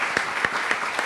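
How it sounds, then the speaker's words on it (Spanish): A lecture audience gives a strong round of applause to a professor after an academic talk on the mission of the university. The clapping is dense, steady and close, with no voices over it. "pido un fuerte aplauso para el maestro Castellanos"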